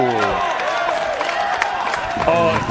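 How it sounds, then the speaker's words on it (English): Pickleball crowd at a pro championship court erupting in cheers and applause after a point-winning put-away, a dense continuous roar of clapping and shouting with commentary voices over it. "As soon as Tioni put that ball away, this crowd erupted."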